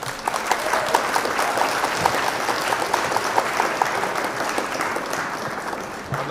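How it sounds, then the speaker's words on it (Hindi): An audience at a mushaira in Bulandshahar breaks into sustained applause to welcome poet Rahul Sharma, a dense, even wash of clapping from a large crowd that fades slightly toward the end. "जोरदार तालियों से राहुल शर्मा साहब का इस्तकबाल की।"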